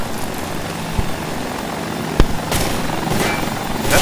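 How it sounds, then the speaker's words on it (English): A helicopter hovers in the Tactical Intervention video game, its rotor and engine noise forming a loud, steady wash that persists throughout with a few brief thumps. "That poor chopper doesn't know what to do."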